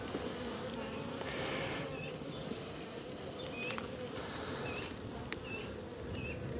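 Honey bees buzz around an open hive during beekeeping, a dense continuous hum with occasional individual bees flying past, moderately faint and without talk.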